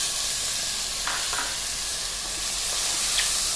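Green chili, onions and tomatoes sizzling steadily in a hot pan for sambar, with a continuous bright frying hiss and a few soft stirring scrapes, close and alone.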